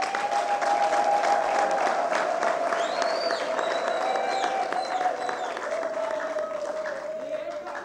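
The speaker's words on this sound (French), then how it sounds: "si nous pouvons l'acclamer." An audience applauds at a formal gathering, a dense sustained wash of clapping that fades gradually, with a voice carrying over it.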